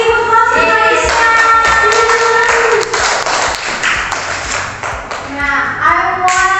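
A class of students gives a short burst of clapping during a speaking lesson, with young voices and a teacher talking over and between the applause.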